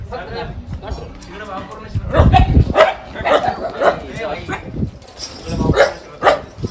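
Dogs bark in short bursts at a moderate distance, mixed with voices talking nearby over outdoor background noise.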